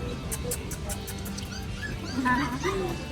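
Shih Tzu and Pomeranian puppies at a busy pet market in Recto, Manila, giving a few faint yips and whimpers over crowd noise, with people talking nearby.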